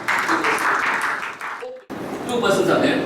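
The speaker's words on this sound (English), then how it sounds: "A big round of applause to her" An audience at a school session applauds, steady clapping heard under a speaker's talking, briefly cut off and then resuming more loosely.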